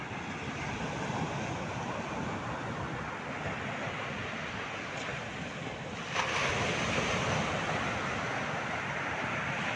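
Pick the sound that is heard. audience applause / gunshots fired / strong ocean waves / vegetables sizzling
strong ocean waves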